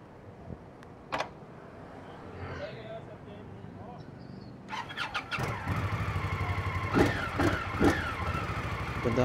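A motorcycle, a CFMoto 450 CLC Bobber or Indian Scout Bobber Twenty, starts up partway through and settles into a loud, rough running engine nearby, with people talking over quieter street noise beforehand.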